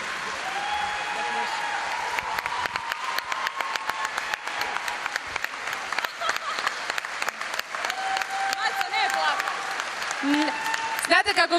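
A live audience at a televised show claps and cheers for a performer, dense applause with shouts and whistles, while a presenter speaks over it.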